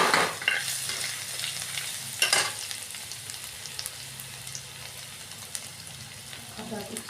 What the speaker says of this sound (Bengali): কড়াইতে একটু তেল নিয়ে নিলাম তেল নিয়ে এখানে দিয়ে দিচ্ছি রসুন কুচি